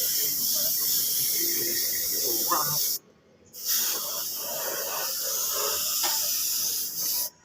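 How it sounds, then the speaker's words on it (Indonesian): Aerosol spray paint hisses steadily in light passes over Honda Supra motorcycle parts during a respray, a continuous close hiss broken by a short pause near the middle, with someone talking over it. "kita semprot bagian kiri kanannya seperti ini, tipis-tipis saja"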